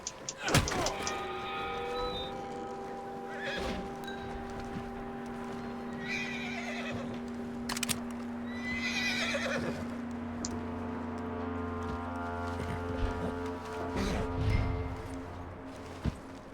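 Horse neighing in the video game Red Dead Redemption 2, with several whinnies rising over a steady tonal game background, along with hoof clops and a thump, fairly close and loud.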